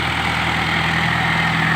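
A tractor pushing soil has its engine running, giving a steady, loud, close low drone with a regular throb that never lets up, and no voices are heard.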